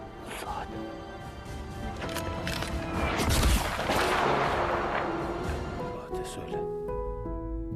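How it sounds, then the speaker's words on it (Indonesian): Bursts of sniper and other gunfire and explosive booms ring out over a dense, music-backed war-film battle soundscape, loud and continuous with a swelling crash in the middle. "membalas tembakan sniper ISIS itu"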